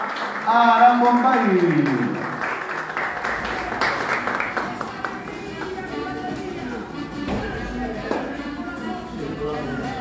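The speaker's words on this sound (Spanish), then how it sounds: "Y los aplausos de los presentes es este el mejor recuerdo que se llevan" Applause from the audience at a 2022 carnival ceremony naming a cultural ambassador for a comparsa carnival, a broad, sustained clatter of clapping with voices heard over it at first.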